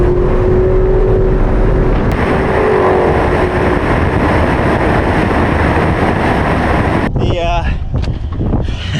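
A Corvette ZR1 race car drives on a track and makes a loud, continuous engine and wind roar from inside the car. It ends in a short burst of choppy noise.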